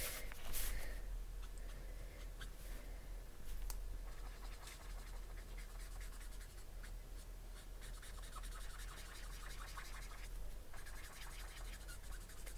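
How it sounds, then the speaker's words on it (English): A Copic alcohol marker running low on ink scratches and squeaks against paper while colouring, giving continuous faint, close strokes with occasional sharper squeaks and no talking. "You can hear the scratchiness and squeakiness on the paper there."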